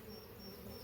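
Honey bees buzz steadily around the entrance of a newly set up beehive, a continuous close drone of several insects flying about with no voices.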